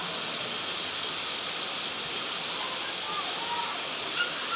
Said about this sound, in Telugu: విజయవాడలో ఉన్న వాళ్ళకైతే తెలుస్తుంది ఫుల్ వర్షం పడుతుంది ఇటు సైడు.